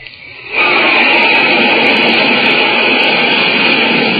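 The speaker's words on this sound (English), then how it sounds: "That's a flight of jet planes flashing across the sky, flying faster than the speed of sound itself." Loud roaring rush of a flight of jet planes streaking across the sky, a sustained broadband blast that swells in abruptly after a brief quiet start and holds steady without a break.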